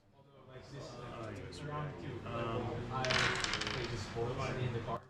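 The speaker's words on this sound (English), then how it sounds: "Someone dropped their dice." Dice dropped on a table during a Magic: The Gathering Legacy match clatter and rattle in a short burst under ongoing conversation between players.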